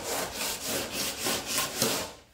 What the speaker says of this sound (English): I'm sanding the end here and the end here, and I'm not touching the middle.